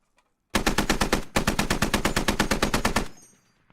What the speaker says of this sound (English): Two machine guns built now.